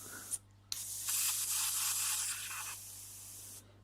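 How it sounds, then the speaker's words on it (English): Airbrush sputtering out thinned paint mixed with water, a loud steady hiss of about three seconds after a short burst, spraying unevenly and clumpy. "we'll see if this goes through the airbrush"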